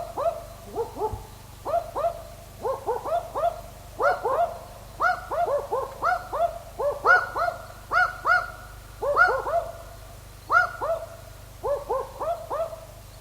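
Powerful owls, a male and female, trade deep dog-like woofing calls in rapid repeated bursts, a steady back-and-forth exchange heard fairly close with no talking.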